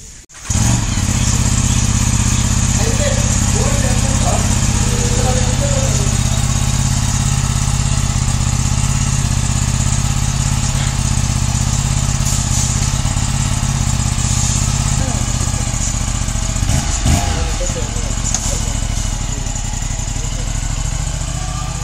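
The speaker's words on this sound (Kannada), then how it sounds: "ಬೈಕ್" A motorcycle engine idling close by, a loud, steady low chugging that holds for the whole stretch, with a few brief knocks partway through.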